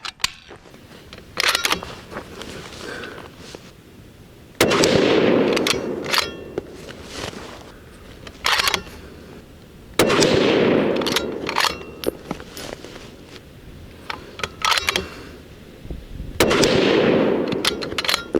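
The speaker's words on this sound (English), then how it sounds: "Last up is the Berger 185 grain Juggernaut bullet, and we're gonna be sending that on to the bottom right diamond." Rifle shots from a Bergara Premier .308 Winchester firing Berger 185 grain Juggernaut bullets, several sharp loud cracks spaced seconds apart, each followed by a rolling echo, with quieter clicks and handling noise in between.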